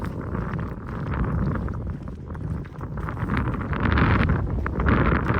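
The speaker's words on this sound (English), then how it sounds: "that's a big gust of wind though" Strong gusts of wind buffet the microphone at an overlook near a dam in the Shenandoah region, a loud, continuous rumbling roar that swells and surges over several seconds with no voices.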